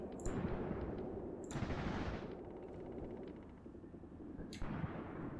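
Battlefield gunfire in the WWII tactical game Graviteam Tactics, set on the Luga Line: a steady din of distant shots and rumbling fire, with brief sharper bursts near the start, the middle and the end.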